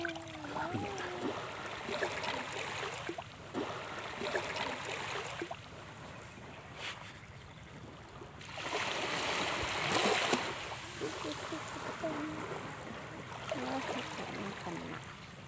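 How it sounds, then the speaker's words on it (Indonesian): Ocean waves wash onto Ulingan beach at sunrise, a steady broadband roar that swells and recedes, rising loudest around the middle of the stretch, with a few faint murmurs of voices at the start. "Ombak ini."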